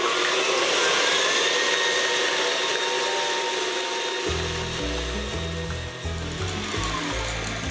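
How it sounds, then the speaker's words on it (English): An electric mixer whisks sugar at high speed for a sponge cake, a loud steady motor whir throughout that deepens partway through as the beaters bite into the mix. "in goes my sugar, and it's gonna whisk"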